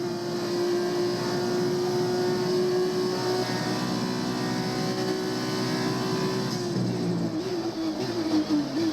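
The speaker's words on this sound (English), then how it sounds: "It is a nice car to listen to. It's a very, very nice car to listen to. A nice solid V8 engine." A V8 racing car engine in an F1 video game holds a loud, steady drone for several seconds, its pitch dipping and wavering near the end as the car slows and shifts, with no talking over it.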